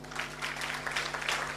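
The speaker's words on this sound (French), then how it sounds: "applaudissez pour lui." Evening crowd at a French-language business talk applauds a guest in the room, a steady, moderately faint wash of clapping over a low hum, lasting the whole moment.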